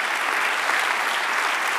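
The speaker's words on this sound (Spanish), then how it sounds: "Dale un aplauso al Señor." A church congregation applauds during a sermon, a continuous, even wash of many hands clapping together, loud and unbroken for the whole moment with no gaps or single standout claps.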